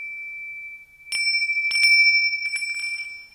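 A bright bell rings a few times in quick strikes over a steady high tone, each ring shimmering briefly before fading.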